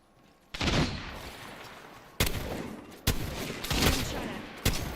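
Apex Legends firefight: after a quiet start, heavy bursts of gunfire erupt in several waves, each opening with a sharp loud crack and trailing into dense rattling shots, close and intense throughout.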